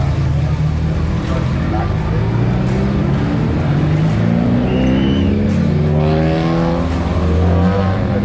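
Race cars head out onto the track. Loud engine drone and revving rise as they pull away, with overlapping exhaust notes. A voice speaks over the noise.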